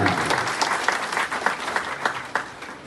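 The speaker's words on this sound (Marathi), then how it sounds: "अशा शिवनाथ राहण्यांसाठी एकदा जोरदार टाळ्या" Loud applause from an audience at an awards ceremony, a dense burst of many hands clapping at once with sharp individual claps standing out, steady for a few seconds with no talk.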